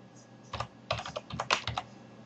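A computer keyboard is typed in short, quick bursts of clicking keystrokes while a definition is entered in GeoGebra. The taps sound close and fairly quiet, with brief pauses between clusters and no talking.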